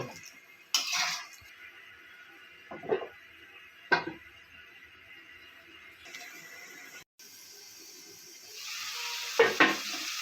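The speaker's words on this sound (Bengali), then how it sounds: "এবার অল্প একটু পানি দিয়ে দিলাম ভালো করে মুরগির মাংসটা কষিয়ে নেব" Chicken pieces being sautéed in a pan for a chicken curry after a splash of water goes in: a soft sizzle under several sharp scrapes and clinks of a spoon against the pan, and the frying grows louder toward the end.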